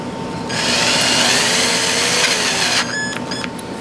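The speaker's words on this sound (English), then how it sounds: "just running these head studs in now" A power tool whirs steadily at close range while running head studs into an aluminum Porsche 5.3 engine block, a sustained high buzz that stops and gives way to a few short bursts.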